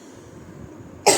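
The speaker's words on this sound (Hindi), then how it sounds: "अब ज़्यादा सॉरी तबीयत खराब है तो खांसी हो रही है" A single short cough from a woman who is unwell bursts out near the end after a quiet room tone, close and sharp.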